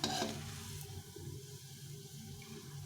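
Soya bean muitha slowly frying in hot oil, a close steady sizzle with a brief louder burst at the start, then a constant bubbling hiss with no talk.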